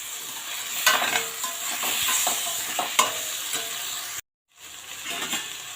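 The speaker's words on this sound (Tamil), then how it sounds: "நம்ம கரம் மசாலா எடுத்து வச்சுருக்கோம், அதையும் சேர்த்து நல்லா வதக்கிக்கலாம்" Capsicum sautéing with garam masala in a pan on a South Indian kadai paneer stove, giving a steady close sizzle broken by repeated scraping stirs and a brief silent gap near the end.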